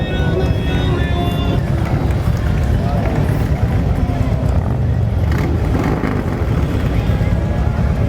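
Motorcycles ridden by combat veterans in a Fourth of July parade, with a loud continuous engine rumble throughout, while people talk over it.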